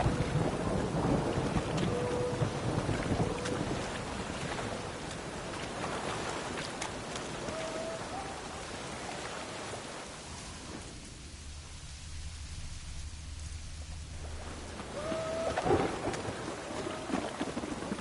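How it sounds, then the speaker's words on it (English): Steady heavy rain hisses throughout as thunder rumbles and rolls in The Witcher 3: Wild Hunt, with a brief lull in the downpour near the end. "It's a washout. Rain again."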